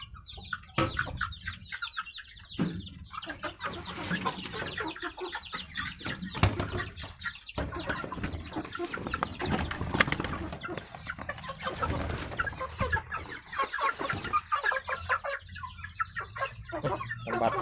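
Chicks and chickens on a poultry farm, with constant dense peeping and clucking from many birds nearby, plus occasional wing flaps, continuous throughout with no talk.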